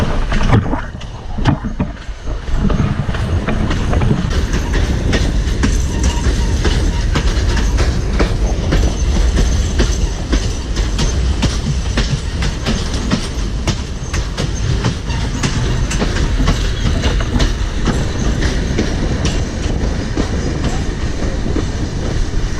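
A steam train passes at Thirlmere with a loud, sustained rumble and rhythmic rail clatter, close throughout after a brief rougher start.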